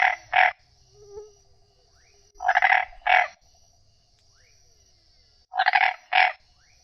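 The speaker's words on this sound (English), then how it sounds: "frog" A frog croaks in three separate paired bursts, loud and close, with quiet gaps between them and no voices.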